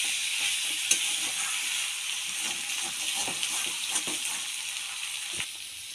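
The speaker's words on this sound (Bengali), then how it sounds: "মাংসটা আমি ভালোভাবে কষিয়ে নিচ্ছি।" Duck meat is stir-fried in a pan with a constant close sizzle, broken by occasional scrapes and small knocks from stirring.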